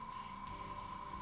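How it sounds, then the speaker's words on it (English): An airbrush sprays paint onto a garage kit figure with a quiet, steady hiss and a faint tonal hum, continuous through the short moment. "the only complaint I had about this airbrush is that it will not spray at super high PSI. You can hear it's pretty quiet."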